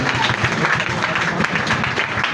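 A congregation applauds at a prayer meeting, continuous dense clapping from many hands filling the room at a steady level, with a voice faintly underneath.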